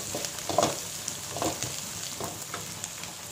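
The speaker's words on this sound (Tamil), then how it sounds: "எல்லாத்தையும் சேர்த்து நல்லா வதக்கிக்கோங்க." Onion, green chilli, garlic and spices sauté in hot oil, a soft steady sizzle with a few louder stirring scrapes, close by and alone without speech.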